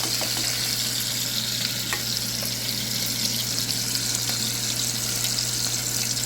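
Beef sizzles and crackles steadily in a pan as its fat renders down, a loud, dense frying hiss that runs without a break, with a few faint clicks and no talking.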